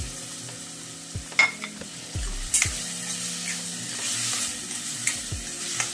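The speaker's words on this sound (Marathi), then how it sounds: "हे आता असं शिजू द्यायचं. या गुळाचा पाक तयार होतो, त्याच्यानंतर बंद करायचं." Jaggery cooking down into syrup in a pan, a soft bubbling sizzle with several distinct spoon scrapes and taps while it is stirred, close and without voices.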